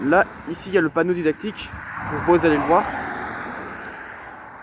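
Cars passing on a national road make a steady, distant traffic rush with a swell of broadband noise around the middle, heard beneath someone speaking French outdoors.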